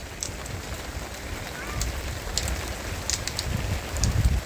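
Rain falls outdoors in a steady, close patter with some wind buffeting the microphone, and occasional louder drops tap on a nearby surface.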